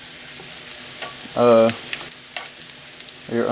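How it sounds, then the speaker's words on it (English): Garlic simmers in oil and butter for firecracker shrimp scampi, giving a steady close sizzle with a brief tonal clang in the middle and another near the end. "Let this like simmer a little bit"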